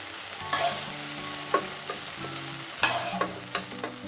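Meat fries in a pan with a steady close sizzle, broken by several scraping stirs and clacks of a utensil against the pan.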